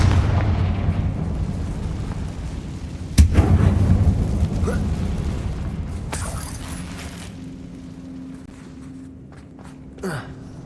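A Confringo fire spell bursts with a sudden loud blast in a Hogwarts Legacy mine, followed by a rumbling decay and a few smaller crackling pops.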